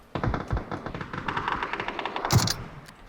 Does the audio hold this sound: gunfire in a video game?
yes